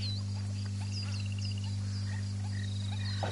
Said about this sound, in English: I thought I just heard a frog.